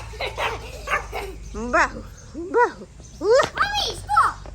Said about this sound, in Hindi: बाहू जब भी कुछ नया देखता है तो उसको भौंकना होता है, तो अभी वो भौंक रहा है इन सब पत्थरों को देख के